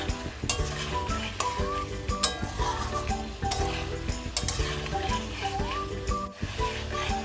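Fried eggs and potatoes are stirred with spices in a pan under a steady sizzle, with repeated scraping and clinking strokes of the spatula. Background music plays throughout.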